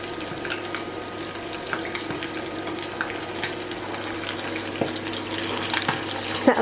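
Samosa made with a low-carb pastry frying in hot oil, a constant soft hiss and fizz with scattered small pops, fairly quiet and steady throughout.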